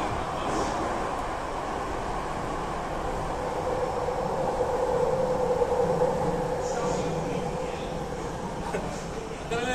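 A Jakarta LRT metro train rumbles steadily along the rails from inside the car, a continuous low roar with a rising whine and faint clatter, no voices.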